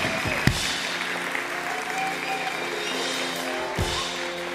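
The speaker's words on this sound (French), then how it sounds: "Est-ce qu'on peut juste applaudir?" A room full of people applauds steadily at an evening church gathering, the clapping a continuous wash with a few sharper claps standing out, heard from within the crowd.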